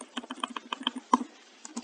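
Rapid computer keyboard typing, repeated paste and enter keystrokes on a PC while building an HTML calendar, a steady run of close, crisp clicks with one sharper stronger key press near the middle.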